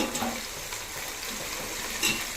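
Green chillies, mint and coriander sautéing in a pan for mutton biryani, a moderate continuous sizzle and crackle with faint stirring scrapes.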